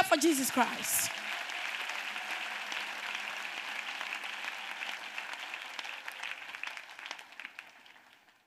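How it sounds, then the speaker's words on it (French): A church congregation claps and cheers steadily after a short shout, the applause holding for several seconds before slowly fading out. "Acclamation à Jésus. Christ"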